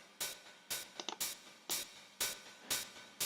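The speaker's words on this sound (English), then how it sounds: "It's called hi-hat 909 open." Unfiltered 909 open hi-hat loop playing in Ableton Live, six evenly spaced bright, hissy open hats on a steady beat, with a quick little ghost-note flurry between the second and third hits, played alone and fairly quiet.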